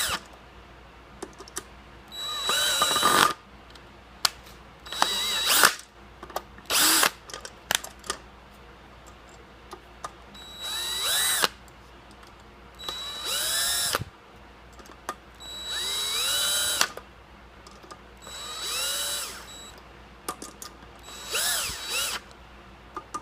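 Power drill driving and tightening the bolts of a Forever Sharp B02 steering wheel adapter on a 1970s Ford, heard as repeated short whirring bursts with pauses and clicks between them, close and distinct with no talking.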